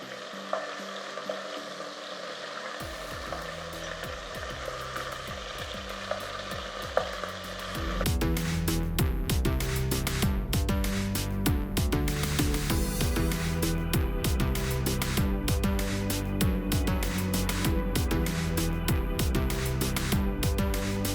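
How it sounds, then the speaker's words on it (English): Lamb meat browns in olive oil in a pan. A low quiet sizzle gives way to a louder, dense crackling fry that continues steadily with occasional soft clatter and no voices. "we're just going to brown the meat off in batches"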